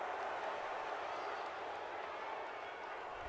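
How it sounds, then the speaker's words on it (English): Stadium crowd in the Madden 22 football video game reacting to a penalty call against their team, a broad sustained roar of noise, steady and fairly distant. "Well, this crowd does not like that call."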